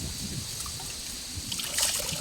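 Water drips and trickles in a cold spot, a soft, steady close dribble with a brighter splashy burst near the end, no voices.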